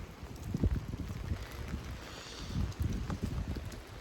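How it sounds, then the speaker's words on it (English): Strong wind of nearly 50 mph during an atmospheric river with rain, roaring as steady broadband buffeting with low gusty rumbles against the microphone, loud and continuous throughout. "it's gonna be quite windy like this for the next day and a half"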